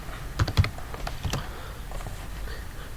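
Computer keyboard keys tapped in a short irregular burst of clicks near the start, then lighter scattered taps, close and moderately loud with no speech.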